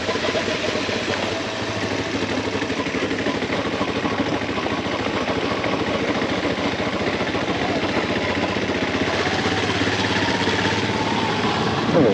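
A motorcycle engine drones steadily throughout a ride through city streets in Antananarivo, Madagascar, a continuous low rumble with wind and road noise.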